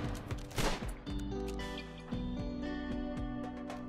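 Gunfire in the video game Rimworld, with a fusillade of several quick shots near the start, then scattered sharp cracks over a sustained tonal game-music background.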